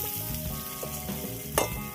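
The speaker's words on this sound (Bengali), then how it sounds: "ওই কড়াইতে আবার আলুটা ভাজা করে নেব।" Potatoes fry in a wok with a loud, close sizzle and the scrape of stirring, including one sharp clatter near the end, and no one speaks.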